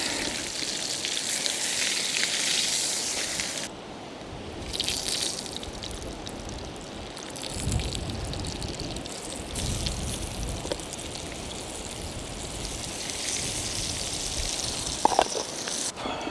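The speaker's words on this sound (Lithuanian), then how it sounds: "nes prie jūros kepa maistas. Taip, žuvytę iškepė" Fish frying in a pan outdoors by the sea gives a steady, soft crackling sizzle that runs unbroken for the whole stretch, fairly quiet, with no voices over it.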